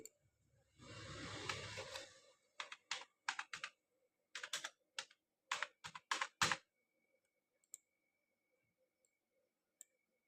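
A name being typed on a computer keyboard: a brief rustle, then quick bursts of close, crisp key clicks in short irregular clusters, trailing off into a few isolated taps.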